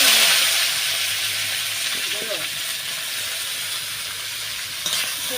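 Cabbage frying in hot oil with mustard seeds in a pan, a loud, steady close sizzle and hiss that slowly settles, with a brief clatter near the end.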